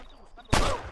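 Single loud gunshot in Red Dead Redemption, preceded by quiet ambient sound, then a sharp blast with a lingering echoing tail.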